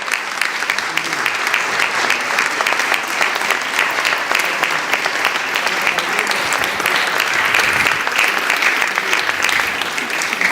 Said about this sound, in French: Et mesdames, messieurs, je vous demande de les applaudir chaleureusement.